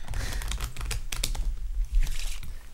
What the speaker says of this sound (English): I'm going to even give them just a quick shuffle.